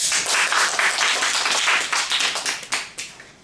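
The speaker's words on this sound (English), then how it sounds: "Let's give them a big clap for it." An audience claps together at a student talk show, a dense, steady patter of many hands that stays loud for a few seconds and begins to thin out near the end, with no voices.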